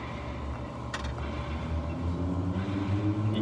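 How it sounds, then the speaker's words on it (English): A loud red car drives past on a street, its engine rumble swelling from moderate to louder and close as it passes, with a brief higher noise burst early on. "You hear this loud red car driving by."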